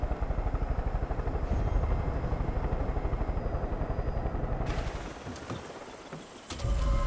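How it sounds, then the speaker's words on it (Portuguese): Steady rotor thump of a helicopter in the video game Far Cry 5, loud and close for about five seconds, then fading and shifting as the engine drops away, with brief other game noises near the end. "Desceu o helicóptero aqui, ó."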